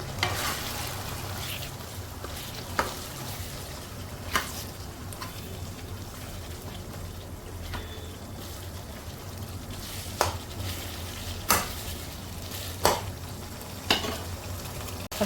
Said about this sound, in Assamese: আকৌ অকণমান ভাজিম।